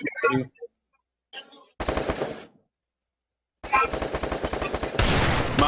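Bursts of rapid automatic gunfire in a video game, loud and close, separated by brief silences, with a short voice at the start.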